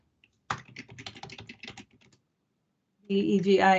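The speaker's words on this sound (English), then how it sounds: "my computer is like typing slow and my keyboard is not keeping up" Rapid, uneven clicks of typing on a computer keyboard, fairly close and a bit muffled, continuing for about two seconds before stopping, followed after a pause by a brief burst of louder, toned sound.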